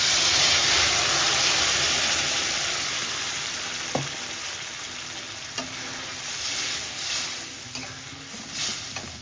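Dal poured into a pan of fried onions that have turned red sets off a loud, steady sizzling hiss, with a few soft clinks and stirring sounds through it and no talking.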